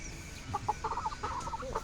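A single 6-month-old pet rooster clucks in short, low, rapid bursts close by, with faint background noise.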